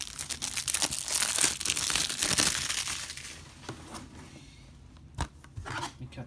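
Blu-ray package being opened and unwrapped, with loud close crinkling and tearing of plastic and cardboard in dense bursts, then quieter rustling with a few sharp crackles.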